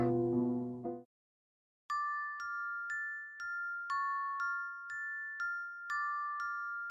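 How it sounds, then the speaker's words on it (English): Wind chimes on a front porch ring clear, close metallic tones in a steady repeating pattern, after a brief low droning sound and a short pause. "I love wind chimes."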